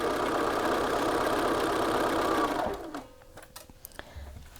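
A sewing machine runs steadily as it stitches the side seams of a garment, a continuous close whir for about three seconds that then stops, followed by faint handling clicks.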